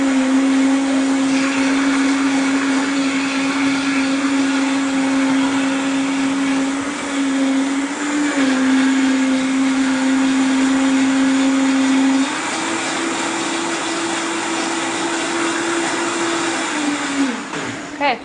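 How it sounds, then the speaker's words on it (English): Vitamix blender running at high speed on a green smoothie of spinach and chocolate, a loud, steady motor roar and whine that shifts pitch partway through before winding down at the end. "the beautiful thing about a Vitamix is it'll blend anything up into a liquid"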